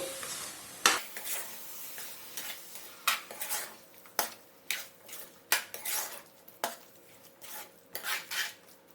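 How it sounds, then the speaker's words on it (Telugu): A spoon scrapes and clinks against a pan in repeated strokes as thick coconut paste is stirred into a cauliflower and field bean curry, with a faint sizzle underneath. "ఇలా వేసుకొని కలుపుకుందామండి ఒకసారి"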